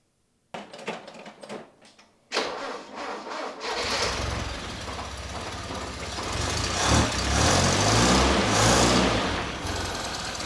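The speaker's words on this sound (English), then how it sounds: "you can hear the valve train and you can hear air being sucked in and the ticking of the valves through the carbs." A Toyota RA28 Celica engine starts after a few clicks and settles into a rough idle. Valves tick through the carburettors and intake air hisses, all close and loud, with a throaty low rumble underneath.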